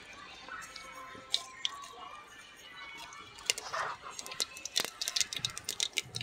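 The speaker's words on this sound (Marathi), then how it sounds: "तडतडले, फोडणी तडतडली" Mustard and cumin seeds crackle in hot oil for a tempering on a wood-fired chulha. Faint, scattered pops and ticks grow busier as the sizzle builds, under a soft background hiss with no clear talk.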